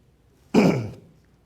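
A single close, loud cough, one short rough burst that fades within half a second, from a Spanish-speaking pastor preaching about stress.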